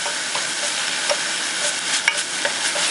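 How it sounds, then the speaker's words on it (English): Minced garlic sautés in a hot pan with a loud, steady frying hiss, broken by faint scrapes and taps of stirring, with no voices. "you don't want to burn this garlic, so I'm going to make it only saute it for a few seconds"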